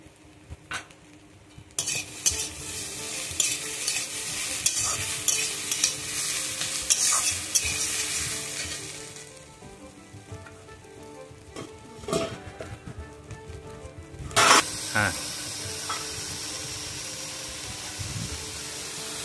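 Fried prawns tipped into a pan of green fig curry, with a steady frying sizzle under repeated stirring and a sharp clank of a spoon against the metal pan near the end, no speech.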